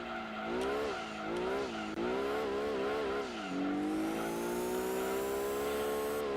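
Race car engines in Gran Turismo 2 on the PS1, during an endurance race at Apricot Hill, whine loudly and steadily, rising and dropping through repeated gear shifts before settling into one long climbing rev.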